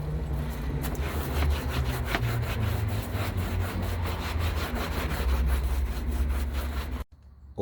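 Steady rough scrubbing of a stiff brush against a fabric car mat, a continuous rasping with quick repeated strokes, close up, ending abruptly.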